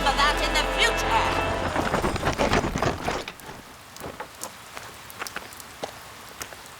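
Dense rain hisses loudly at first, then thins to scattered drops and faint patter with a soft low rumble, close by.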